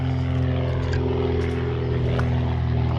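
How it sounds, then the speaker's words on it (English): Propeller aircraft droning steadily overhead at a distance, a continuous low hum with no talk. "Hopefully you can hear me over that aeroplane."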